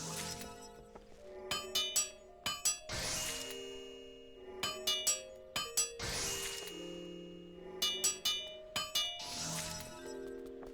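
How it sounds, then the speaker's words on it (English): Hammer blows striking metal while making iron ore in FF14 with a wooden remake, ringing in tight bursts of three to four chimes repeated every few seconds, each cluster followed by a bright clanging swell over sustained tonal music. "the sound made by the hammer is absolutely the first bar of E1M3, E3M1"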